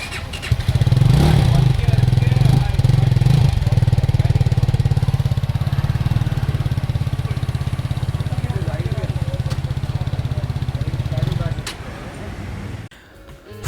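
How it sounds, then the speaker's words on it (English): Leonchino 250 single-cylinder motorcycle revving and holding a steady, loud, throbbing exhaust note for roughly ten seconds, then cutting off abruptly near the end. "Now let's hear the exhaust note of the Leonchino 250."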